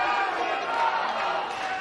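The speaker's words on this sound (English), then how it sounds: "You hear the crowd starting to chant" Crowd noise at a jiu jitsu match between Eddie Bravo and Royler Gracie, a dense, steady roar of many voices that may be the start of a chant, holding at an even level throughout.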